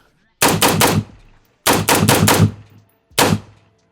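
Loud, close bursts of rapid fire from a PSA rifle at a shooting range: two long volleys of quick shots, then a short final burst, each echoing briefly afterward.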